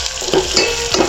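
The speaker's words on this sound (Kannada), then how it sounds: "ಜೀರಿಗೆ, ಕೊತ್ತಂಬರಿ, ಈರುಳ್ಳಿ ಮತ್ತು ಕರಿಬೇವಿನ ಸೊಪ್ಪು ಇದನ್ನು ಚೆನ್ನಾಗಿ ಒಗ್ಗರಣೆ ಮಾಡ್ಕೋಬೇಕು" Cumin, coriander, onion and curry leaves crackling in hot oil for a sambar tempering, a close, bright sizzle with bursts of spattering and a utensil stirring through it.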